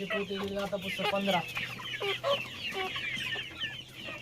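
Chickens on a poultry farm clucking repeatedly in a busy, overlapping chorus, close by and continuous, with faint voices in the background.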